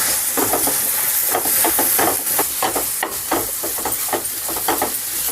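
Leafy greens frying in oil for a chutney, the pan nearly dry after the oil has been absorbed, giving a continuous loud crackling sizzle broken by repeated rhythmic stirring scrapes, no voices.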